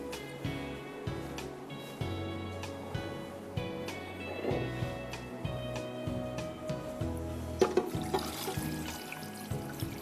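One and a half cups of water run and splash steadily into a pressure cooker for minestrone soup, a moderate pouring sound with some clinks near the end.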